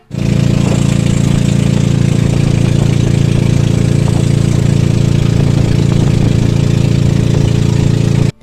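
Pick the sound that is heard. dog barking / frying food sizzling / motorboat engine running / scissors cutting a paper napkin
motorboat engine running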